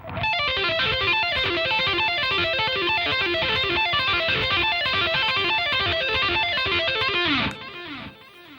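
A fast, distorted electric guitar lick from a metal solo repeats at tempo in a rapid, even stream of notes, ending with a sustained ringing note.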